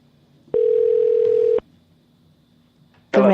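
An outgoing telephone call rings once as a steady electronic tone lasting about a second, followed by silence with faint hum and then the start of a louder sound at the end.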